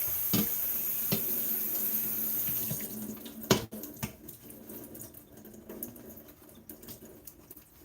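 Running tap water splashes in a kitchen sink as tomatoes are rinsed under it, a steady close stream for about three seconds that then breaks into softer, uneven trickles and drips.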